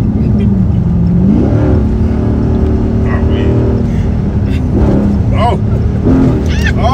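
A car accelerates hard with the gas pedal held down, a loud, sustained engine roar with rising pitch sweeps, while people talk and exclaim over it inside the cabin.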